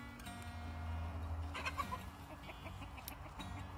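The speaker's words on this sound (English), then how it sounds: "we got some randy roosters over there." Poultry clucking and calling at a distance over a low steady hum, with a short cluster of louder bird calls in the middle.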